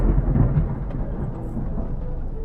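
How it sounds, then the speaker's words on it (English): Thunder close by during a Midwest storm, a deep rolling rumble that peaks early and then fades into a lingering low murmur, with no voices. "oh, there's some lightning. That was close."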